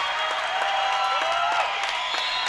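Arena basketball crowd of fans on their feet, cheering and applauding during a tight late-game varsity moment, a steady dense roar with scattered claps close around.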